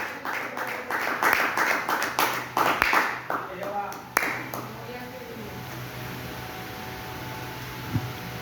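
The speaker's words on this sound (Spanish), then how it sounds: "Si le puede aplaudir, apláudale en esta mañana." A church congregation applauds during a Spanish-language sermon, dense clapping for about four seconds, then it fades, leaving low room hum and a faint tap.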